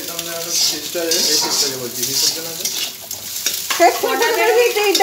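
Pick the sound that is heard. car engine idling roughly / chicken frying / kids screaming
chicken frying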